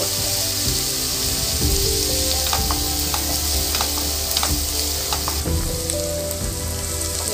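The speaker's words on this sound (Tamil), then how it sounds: "எல்லாத்தையும் சேர்த்து நல்லா வதக்கிடணும்." Onions, green chillies and coriander sauté with salt in a pan for Tamil egg curry, giving a steady loud sizzle and frying crackle throughout, with occasional sharp spatula scrapes and stirring clicks.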